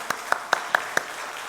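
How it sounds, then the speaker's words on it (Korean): A church congregation claps in welcome for young people at a Korean service: five sharp, evenly spaced claps in a quick steady rhythm, then a short quiet tail. "박수로 많이 환영하겠습니다"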